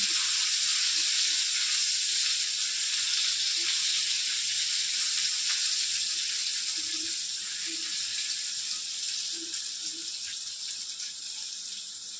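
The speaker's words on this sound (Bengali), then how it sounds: "বেগুনগুলো লাল করে ভাজা হয়ে গেছে, বেগুনগুলো তুলে নেব" Brinjal slices fry in hot oil with a steady, bright sizzling hiss that holds evenly and fades slightly toward the end, with faint soft pops beneath.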